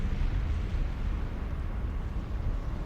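Deep roaring rumble of a lava flow at Volcano Manor in Elden Ring, a continuous low, wind-like and explosive churning that stays loud and steady throughout, with no talking.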